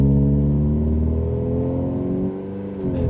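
A lifted Honda CR-V off-road project, driving with nothing on its front, its engine a steady harmonic drone that dips briefly in pitch and level before climbing again, loud and close throughout.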